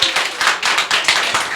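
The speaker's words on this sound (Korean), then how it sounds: "박수 한번 특별히 좀 쳐드려야 될 것 같아요" A church congregation at a Korean worship service applauds, giving a burst of lively, loud, evenly dense hand clapping from many people, with no voices over it.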